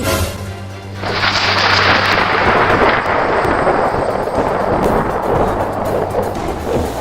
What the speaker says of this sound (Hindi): बारिश होने लगी, बारिश होने लगी।